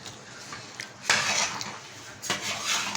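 A spoon scrapes and clinks against a pot as rice is stirred into tomato sauce with ghee. There are a few short metallic stirring bursts and no talk.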